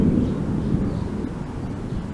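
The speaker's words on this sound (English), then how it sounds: "hot wind that's coming through now" Hot wind gusting outdoors past laundry hanging on a clothesline, a steady low rumbling roar with buffeting against the microphone and no voices.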